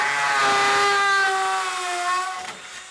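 A hammer drill bores through 1/8 inch steel with a loud, continuous high whine whose pitch slides slowly downward as the bit works through the metal, then trails off at the end.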